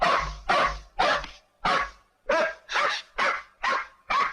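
Hunting dogs bark in a loud, steady run of about nine sharp, evenly spaced barks close by, with no voices over them.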